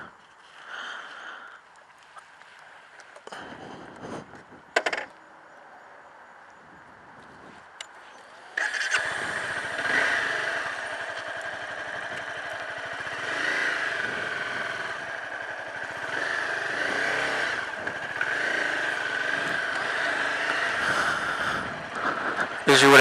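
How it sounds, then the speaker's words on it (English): A new Honda CBR250R sport bike: clicks and handling noises, then the engine fires up around the middle and settles into a continuous buzzing run that rises and falls through riding, with wind rumble. "I am getting ready to take a short ride on my new Honda"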